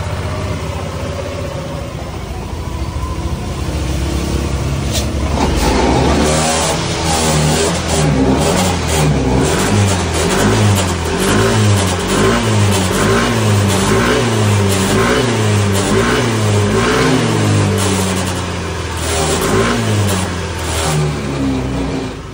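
A motorcycle engine runs during ECU remap calibration, starting at a rough idle and then revving repeatedly in rising and falling surges, loud and close with no talk.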